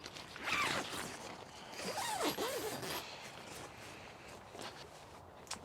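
Zipper on the mesh door of a WASAGUN truck tent being pulled in a few quick rasping strokes, close and fairly loud, followed by quieter rustling and handling of the fabric.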